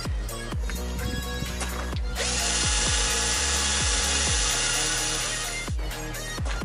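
A power drill bores holes in a thick light bar bracket using worn bits, a steady whining motor broken by repeated bursts of grinding and short pauses between runs.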